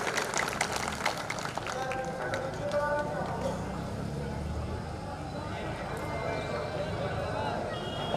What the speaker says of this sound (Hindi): मैं चाहूंगा एक जोरदार तालियों से आप लोग उनका अभिनंदन करें।